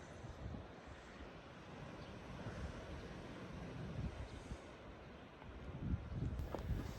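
Sea waves and wind on the Faroe Islands coast, a continuous broad rushing surf with gusty wind buffeting the microphone, swelling slightly toward the end.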